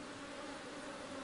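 Bees on the glass plate of an electric venom collector, stimulated by a low-intensity current from a battery, make a faint, continuous buzzing drone with no voices.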